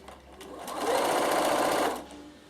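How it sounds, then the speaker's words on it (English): A sewing machine fitted with a no. 12 piping foot re-stitches a wrapped fabric bag handle, giving one close, steady whirring run of under two seconds that swells and fades. "So I'm just re-stitching that down"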